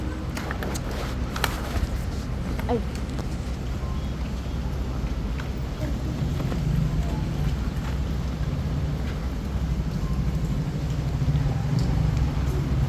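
Heavy rain pours steadily outside a beach resort lobby at Christmas, a dense continuous wash with low rumbling noise; a brief voice exclamation is heard early on.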